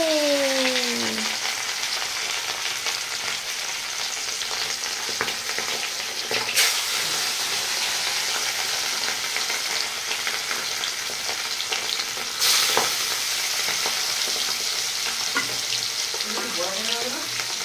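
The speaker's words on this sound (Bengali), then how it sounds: "তেলও ধোয়া উঠে গেছে, আগে মাছগুলো ছেড়ে নি" Fish sizzles steadily in hot, smoking oil for the whole stretch, a dense continuous crackle with a couple of sharper spits midway; brief voices come in at the start and near the end.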